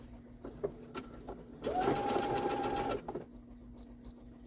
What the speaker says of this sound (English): Sew around entire topper with a zigzag stitch.